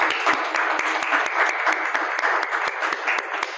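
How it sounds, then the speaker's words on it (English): Audience applause after a presentation: steady, dense clapping from many hands filling the room, even and sustained throughout without any voices. "another round of applause for Dennis"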